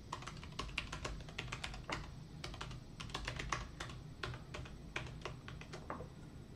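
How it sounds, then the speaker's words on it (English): Rapid, uneven keystrokes on a computer keyboard as a password is typed, a close, crisp run of clicks at a quiet level with no talking. "you're going to type in your password"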